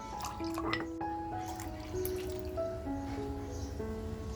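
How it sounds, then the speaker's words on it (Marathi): Cooking water pours and drips into a container of cashews close by, with rising gurgling tones as it fills, fairly quiet. "तेच पाणी ह्या काजूमध्ये टाकून घेते"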